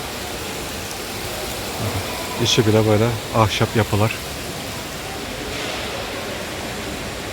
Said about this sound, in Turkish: Portun içinde böyle bir şelale havuz var.